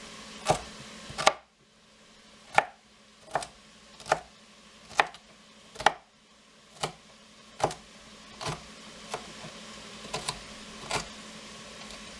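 A knife chops vegetables for cabbage soup on a cutting board: about fifteen crisp, separate thuds at an unhurried, slightly uneven pace, close and clear over a quiet background.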